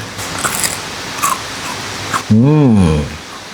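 Close crunchy bites into a crispy fried pastel pastry, a few sharp crackles followed by a voice speaking over the chewing.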